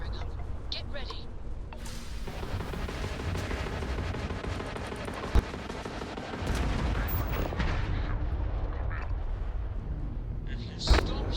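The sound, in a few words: spaceship weapons firing in Starfield video game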